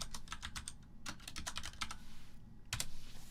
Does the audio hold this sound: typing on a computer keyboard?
yes